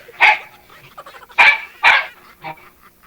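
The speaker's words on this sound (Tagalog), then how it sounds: "ang ingay ng mga aso niyo" Dogs bark in sharp, loud bursts, about four separate yelps spaced unevenly, close by, with faint background noise between them.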